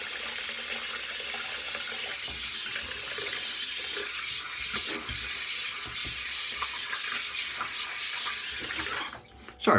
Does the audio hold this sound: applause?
no